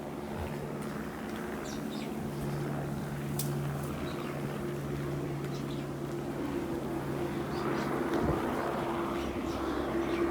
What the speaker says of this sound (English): helicopters are in the air